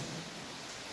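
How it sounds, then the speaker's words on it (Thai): Steady, dense rainfall with a low rumble of thunder underneath, heard near a cave in Phrae, Thailand, loud and continuous for a brief moment with no voices. "ฝนมันยังตก"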